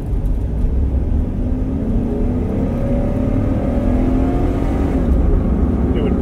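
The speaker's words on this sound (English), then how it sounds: "So now I'm going to just accelerate down the street." Chevy Tahoe with a 5.3 engine accelerating down a street, a loud close engine roar with a rising rev tone under a steady road rumble.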